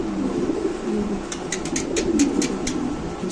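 Mundian female pigeon cooing in low, soft rolling coos, close by over a steady background murmur, with faint higher chirps from other birds.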